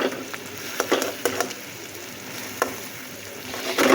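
Hilsa fish roe, cut into pieces, sizzles and spatters steadily in a pan, with scattered sharper crackles and stirring noises over a continuous hiss, no voices.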